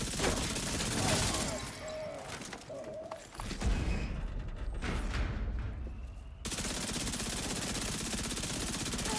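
Assault rifle fire in The Division 2, dense bursts of shots up front, then a quieter stretch, and steady rapid fire again toward the end, with a voice talking partway through.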